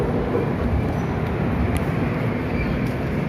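A train pulling slowly out of Bhubaneswar station gives a continuous, close rumble with a broad even roar, steady throughout, with no talk.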